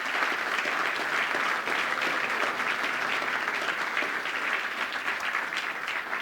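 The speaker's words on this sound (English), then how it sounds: "Can we give them a round of applause, please?" An audience at a national apprenticeship awards ceremony applauds, a dense, even wash of many hands clapping at steady volume throughout, with no voices standing out.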